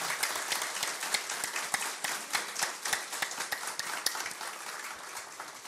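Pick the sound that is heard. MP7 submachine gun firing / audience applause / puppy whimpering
audience applause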